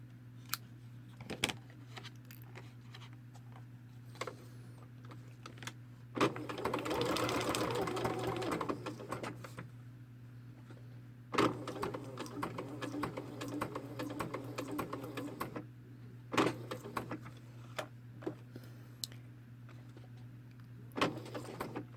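A sewing machine stitches around the fins of a fabric piece, with bursts of rapid whirring that stop and restart over a steady low motor hum, punctuated by clicks between runs.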